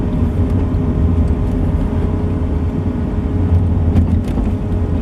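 A Volvo 740 GLE estate's engine drones steadily from inside the cabin while driving, with a faint gearbox whine riding over the low rumble throughout.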